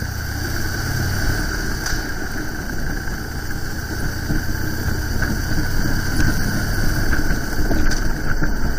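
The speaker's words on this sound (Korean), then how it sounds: "시동도 일발에 잘 걸리고 엔진 소리도 트러블 없이 좋습니다" A Harley-Davidson motorcycle engine idles steadily with a low, rumbling throb, close and continuous, with no voices over it.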